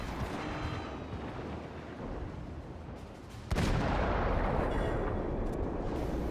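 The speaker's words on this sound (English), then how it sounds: "The lieutenant orders all guns to fire as he puts shell after shell into the turning enemy vessel." Naval guns on a Wickes destroyer in World of Warships fire shells at an enemy vessel, a dense, continuous roar of gunfire and blasts with a louder surge partway through, no talk.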